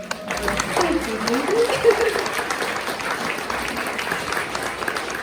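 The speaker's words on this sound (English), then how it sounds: "Can we have another round of applause, please?" Applause from a folk festival audience indoors, a steady mass of clapping throughout with a voice speaking over it at the start.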